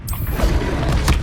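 The Expelliarmus spell in the video game Hogwarts Legacy releases a loud, brief burst of booming, crackling magical energy that lasts about a second.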